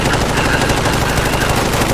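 An enemy's gun fires a dense, rapid automatic burst in a video game, loud and continuous for the whole two seconds, close and harsh with no talking over it.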